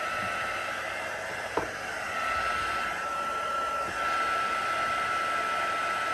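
A heat tool blows steadily over a card stamped with red rubber stamps, melting embossing to a black gloss, a constant airy whoosh with a faint whine and no speech.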